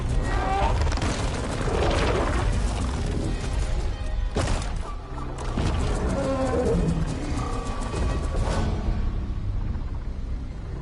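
A huge machine mammoth in the video game Horizon Forbidden West lets out a deep, sustained roar over a dense, rumbling game soundtrack with booming impacts, loud and continuous throughout.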